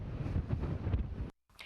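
Strong wind buffeting a microphone outdoors after a storm, a rough low roar with gusting surges that cuts out to silence briefly, then resumes.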